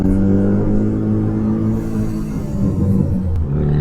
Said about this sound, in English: Loud bike, or loud car.